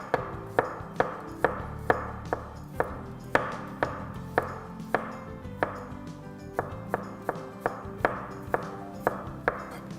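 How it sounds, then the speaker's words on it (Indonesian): A knife slices garlic repeatedly against a cutting board in quick, steady strokes, about two per second, close and crisp with no talking. "Bawang putihnya tinggal kita iris aja kayak gini."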